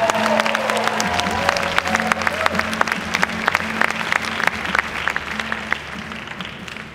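A fashion show audience applauds at length, dense clapping loud and near throughout, with a low sustained music tone beneath and the clapping easing slightly toward the end.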